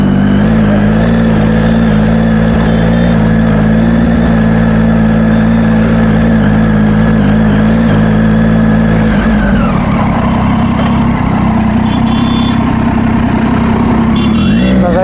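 A motorcycle engine runs loud and close, idling with a steady throb before revving up and dropping back, then rising again toward the end, with no voices over it.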